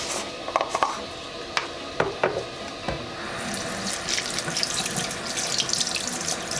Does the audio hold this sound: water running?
yes